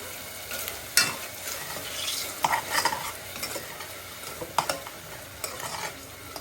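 Guyanese fried bake sizzles steadily in hot oil, a constant close crackle with occasional louder scraping and stirring taps from a utensil in the pan.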